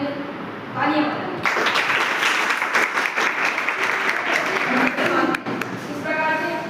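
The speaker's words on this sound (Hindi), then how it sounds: "पहले एक बार जोरदार अपने लिए तालियां बजाएं" A crowd at an Independence Day program breaks into loud, sustained applause that rises abruptly and holds dense and close, with a speaker's voice heard before and after the clapping.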